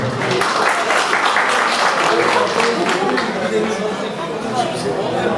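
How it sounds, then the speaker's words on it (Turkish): An audience at an album launch night applauds the chairman, dense, even clapping sustained for several seconds with chatter and a voice heard through it. "Alkışlar başkana gelsin."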